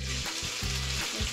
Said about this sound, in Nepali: अब यो घिउमा तातेको घिउमा टक्क यसरी